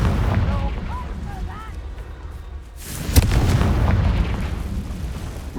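Confringo fire spell explosions in the video game Hogwarts Legacy: a deep rumbling blast and burst roll out midway, following a stretch of game ambience with chirping sounds, the boom lingering loudly to the end.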